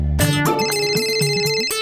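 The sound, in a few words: telephone ringing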